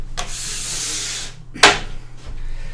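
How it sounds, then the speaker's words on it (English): A plastic scraper pushes hot wax off a snowboard base in long, close, hissing strokes, with one sharper scrape partway through and a low background hum underneath. "one of the ways after you've left it on to get the big bulk of it off, I use my scraper, pushing it all up"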